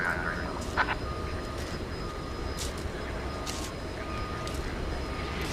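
A jet airliner arriving at DFW Airport at night, a flight from Philadelphia, rumbling as a steady broadband roar with distant engine hum, close and continuous, with faint voices nearby.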